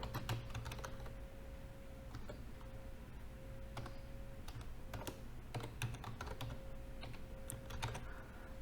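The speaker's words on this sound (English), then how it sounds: "So when I will type my email ID here" Keys clack on a computer keyboard as an email ID is typed, quick irregular taps near and fairly quiet over a steady electrical hum, with no one speaking.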